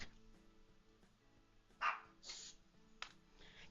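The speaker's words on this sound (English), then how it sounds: "Except for the one who's actually barking." A dog gives a few sharp barks, fairly faint against a steady background of music.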